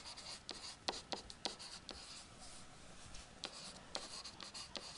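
Pen or pencil writing by hand on paper during a geometry lesson, close and quiet, with short irregular scratchy strokes and taps and no talking.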